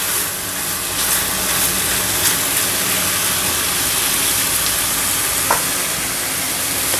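Shark pieces frying in a pan on a low flame, a dense continuous sizzle and crackle that holds steady and close throughout, with a few sharper pops breaking through.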